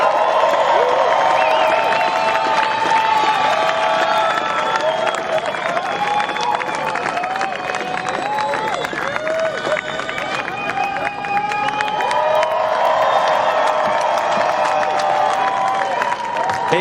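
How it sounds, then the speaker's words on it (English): A surf contest crowd honouring the men's champion claps and cheers in a loud, continuous roar of applause, with whoops and babble mixed in. "A very warm round of applause for your champion for the"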